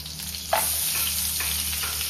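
Garlic and chili fry in a pan for butter chicken, a continuous close sizzle with one clattering stir near the start and no one talking.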